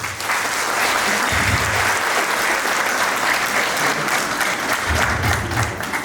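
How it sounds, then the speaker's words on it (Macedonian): Audience at a kindergarten event applauding the teachers, caregivers and staff: sustained, full clapping from a crowd lasting several seconds at steady loudness, with soft low thumps now and then. "Ве молам за еден аплауз."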